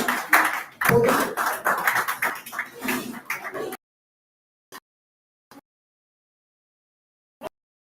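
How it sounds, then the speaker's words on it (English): An audience gives a round of applause for a lecturer at the podium: a dense burst of clapping for about four seconds that stops abruptly, followed by silence and a few isolated taps. "round of applause for him."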